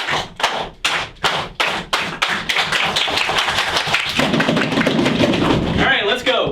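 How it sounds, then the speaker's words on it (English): A class of students claps slowly in unison, a series of loud, sharp, evenly spaced claps that speed up and then merge into continuous applause, with voices rising near the end. "Slow clap."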